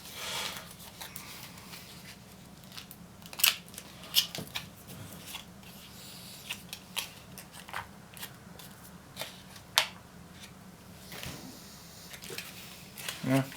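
Scissors snip across the top of a sealed Russian military MRE ration pouch, soft irregular cuts and crinkling plastic spread over several seconds, with a few sharper snips.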